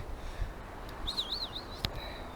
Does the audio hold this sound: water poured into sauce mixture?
no